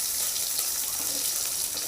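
Chopped onions and tomatoes sauté in a pan with a dense, even hiss that stays close and steady throughout.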